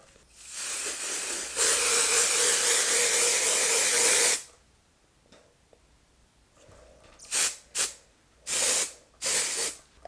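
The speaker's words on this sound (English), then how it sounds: "I feel like this is like a mattifying setting spray" Air Flash makeup setting spray hisses in a long, steady, close burst, followed after a pause by four short, sharp spritzes.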